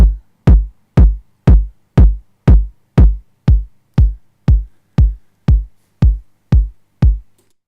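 Tiptop Audio BD 909 kick drum module with accent, a steady run of about fifteen punchy, booming kicks with quick decay at an even tempo, loud and dry.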